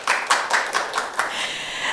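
Applause from an audience at a Korean baduk anniversary talk event, a short burst of many hands clapping close and fairly loud, fading slightly, without voices.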